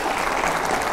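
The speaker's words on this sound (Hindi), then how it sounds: "जोरदार तालियों" A dense burst of loud clapping from an audience at a political event, heard briefly and steadily.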